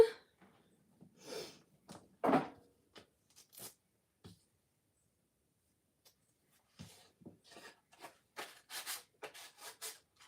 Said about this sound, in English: we're going to sand the edges down